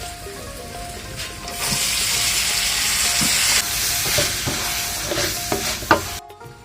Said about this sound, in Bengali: ভিজিয়ে রাখা আলুটাকে ভালো করে ধুয়ে এখন আমি কড়াইয়ের ভিতরে দিয়ে দিচ্ছি